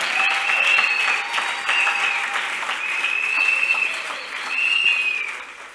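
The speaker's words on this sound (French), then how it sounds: "on acclame le Seigneur" A church congregation claps steadily in a reverberant hall, giving a dense, continuous applause that swells and dips over several seconds with no voices standing out.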